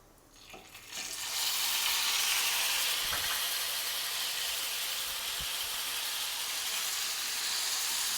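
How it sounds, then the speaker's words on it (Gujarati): Red chilli paste sautéing in hot oil over a low gas flame for a sweet-sour chutney, a close, steady sizzle that swells in after a quiet second and holds, with a few faint stirring knocks. "ગેસની ફ્લેમ એકદમ ધીમી રાખી અને તેલ સાથે મરચાંની પેસ્ટ સરસ સાંતળી લેશું"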